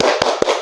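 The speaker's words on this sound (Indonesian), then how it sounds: "sebelumnya kita tepuk semangat dulu ya ibu-ibu sambil duduk saja ya" Seated group of women clapping a 'tepuk semangat' chant, with a few separate sharp claps standing out over a steady room murmur.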